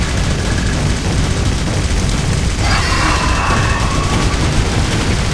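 Rapid gunfire and heavy booms blast at a boss in the game Jericho, dense and loud with a continuous roar, and a burst of higher-pitched noise midway.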